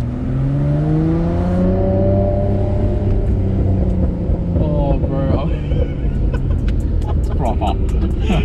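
A Nissan Skyline R34 GTR engine and turbos rev, heard from inside the cabin: loud rising and falling engine tones climb through the gears, followed by sharp clicking and fluttering bursts as the throttle lifts.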